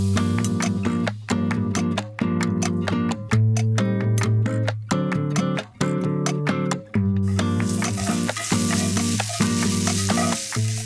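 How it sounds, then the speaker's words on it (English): Minced garlic sautés in a skillet at the start of a red chile sauce made from Chimayó, New Mexico red chile powder; a loud, steady sizzle runs throughout beneath music with a strong rhythmic beat. "I saute for just a bit and then I add the flour"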